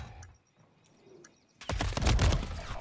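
Gunfire in a tactical shooter game: after a quiet stretch with faint chirps, a sudden burst of sharp, loud gunshots erupts and continues in rapid, dense cracks to the end.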